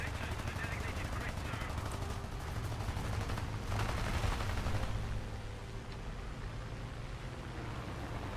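Aircraft machine guns firing in War Thunder, a steady dense rattle of rapid bursts over constant engine drone, loud and continuous for most of the stretch, with no voice over it.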